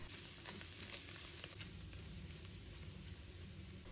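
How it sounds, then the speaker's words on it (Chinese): Pork intestines stir-fried in a wok over high heat with garlic give a constant bright sizzle and crackle, quiet and steady, with faint scraping of stirring and no voices. "再把猪大肠放入锅中，继续大火炒，炒出香气来"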